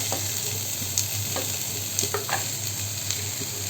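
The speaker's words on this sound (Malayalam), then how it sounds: "ഇനി ഇതിലേക്ക് നമുക്ക് കഴുകി വൃത്തിയാക്കി അരിഞ്ഞ് വെച്ചിരിക്കുന്ന ആ കോവയ്ക്ക ചേർത്ത് കൊടുക്കാം കോവയ്ക്ക ഞാൻ ഇതിലേക്ക് ഇട്ട് കൊടുക്കുന്നുണ്ട്" Chopped ivy gourd sizzles steadily in a hot pan, with a constant frying hiss and a few soft stirring clicks and scrapes.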